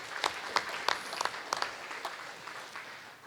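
Audience applause at a Board of Education meeting, a room of people clapping with sharp individual claps standing out at first, then settling into a steady, fading patter.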